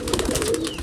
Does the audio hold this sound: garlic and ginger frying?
no